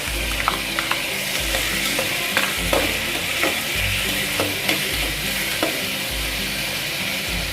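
Tomatoes and carrots stirred on a hot tawa for street-style pulav give a loud, constant sizzle with a low rumble underneath and repeated metal spatula scrapes against the pan.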